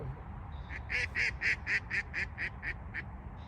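A duck quacks about ten times in a steady, fairly loud run beside a river fishing spot at Harvington, over a low background rumble.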